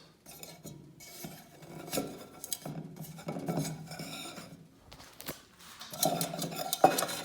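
A metal cooking pot clanks and scrapes as it is set down into a homemade Caldera Cone stove, a series of close, uneven metallic knocks and rattles with a louder clink near the end.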